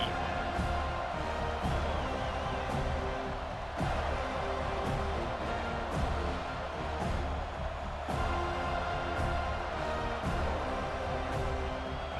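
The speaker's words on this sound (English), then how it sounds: "This crowd ready to make its presence known." A stadium crowd roars in the College Football 26 video game: a dense, steady wall of cheering and noise that stays loud throughout, under a play-by-play commentator's voice.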